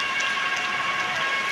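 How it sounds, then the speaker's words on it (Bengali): Heavy rain falling steadily, a dense, even wash of drops pattering on surfaces with no pauses and no voices. "বৃষ্টি হচ্ছে"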